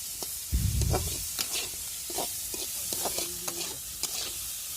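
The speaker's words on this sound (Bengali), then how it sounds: "তেলের উপরেই শুটকিটা ভাজা ভাজা হবে।" Dried fish (shutki) fries in oil while being stirred, producing a soft continuous sizzle with a few stirring scrapes and taps, close but fairly quiet.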